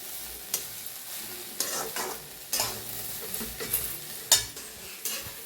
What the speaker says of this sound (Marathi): असं छान भाजून घ्यायची बघा गवारी गवारी जेवढी छान भाजील तेवढी छान भाजी होणार आपली